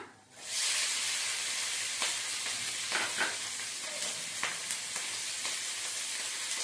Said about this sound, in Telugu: పచ్చిమిరపకాయలు బాగా దోరగా వేయించుకున్నామండి.